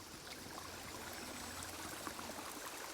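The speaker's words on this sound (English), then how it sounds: "you guys got to hear it with the birds and the sound of the babbling brook" A babbling brook flows near an abandoned nun cemetery and grotto, a faint, steady trickling wash of water with no other sounds.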